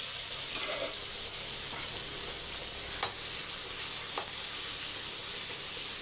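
Garlic, dried red chillies, shallots and onions sizzle steadily in a hot pan, a continuous close frying hiss with a few soft stirring clicks and no voices.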